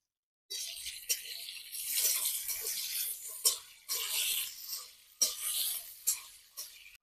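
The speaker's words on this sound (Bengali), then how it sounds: "তেলের মধ্যে পেঁয়াজটা দিয়ে দেবো পেঁয়াজটাকে ভালো করে ভেজে নেবো" Onion frying in oil makes a faint, fluctuating sizzle that comes and goes with stirring, rising in short surges after a silent start, with no voices.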